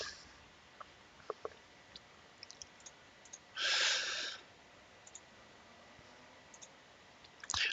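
Computer mouse clicking through a game menu: a scattering of faint, close single clicks spread irregularly over several seconds, with a brief louder hiss-like burst midway and no speech.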